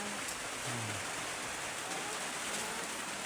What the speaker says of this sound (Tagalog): Maulan ang ating umaga ngayon.